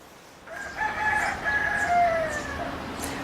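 A rooster crows at mid distance, with hens clucking around it, on a porch in Guam against a steady outdoor background hum.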